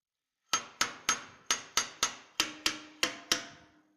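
A hammer lightly tapping an engine's valve adjustment screw, ten crisp metallic taps in a fairly steady rhythm, close and alone with quick ringing decay after each strike.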